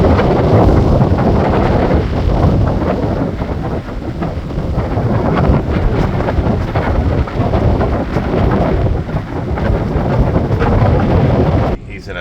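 Strong wind roars across a sailboat at anchor amid a fleet, a loud, steady broadband rush with gusty buffeting against the microphone that runs continuously for the whole stretch before dropping abruptly at the very end.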